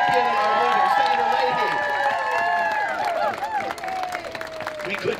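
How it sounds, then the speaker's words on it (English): Crowd at a rally for the Violence Against Women Act claps and cheers for a senator, a steady loud roar with shouts and whistles throughout, a voice speaking over it. "can we have another round of applause"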